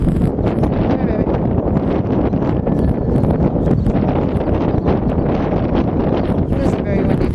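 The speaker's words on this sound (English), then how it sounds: "It is a very windy day." Strong wind on a very windy day at an airfield buffets the microphone with loud, continuous roaring gusts that stay steady and close for the whole stretch.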